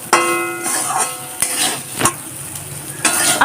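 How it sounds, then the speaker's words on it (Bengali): Bitter gourd stirred in a hot pan with salt, turmeric and chili powder: loud, close scraping strokes of a spoon against the pan over a faint sizzle, in several separate bursts. "স্বাদ মতো নুন হলুদ গুঁড়ো আর লঙ্কার গুঁড়ো ভালো করে নাড়াচাড়া করে নেব"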